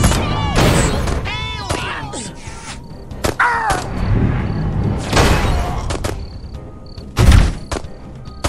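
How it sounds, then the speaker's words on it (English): Explosions in the video game Destroy All Humans!: several loud, sharp blasts burst out at intervals, mixed with gunfire-like cracks and other busy game sounds, and voices come through at times. "Further testing of the human's resistance to damage, particularly explosions, is required."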